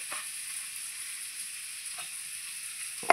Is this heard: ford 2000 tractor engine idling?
no